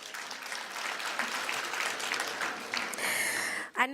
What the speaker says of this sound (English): Let's give our VIPs a round of applause.